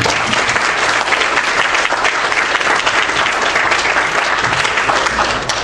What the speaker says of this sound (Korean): 모든 영광 주님께 박수 올려드립니다